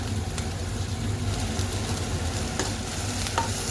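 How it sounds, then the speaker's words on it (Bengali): Onion, garlic and dried chillies fry in hot oil with a dense, steady sizzle, with a few faint stirring clicks over a low background hum. "আর একটু পেঁয়াজ আর একটু রসুন ভেজে নিচ্ছি।"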